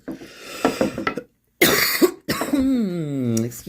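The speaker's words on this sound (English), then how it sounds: "I still have a cough from being sick." A person with a lingering cough from illness coughs a few times, loud and close, with a gap of silence, then speaks afterward.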